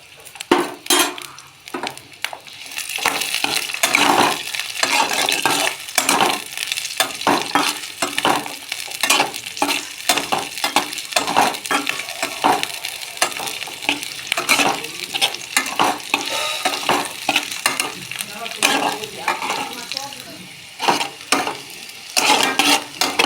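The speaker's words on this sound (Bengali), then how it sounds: "একটু ভেজে নিতে হবে" Chopped onion, garlic and split green chilies frying in a pan, with a loud continuous sizzle and quick, constant spatula scrapes and clinks against the metal throughout.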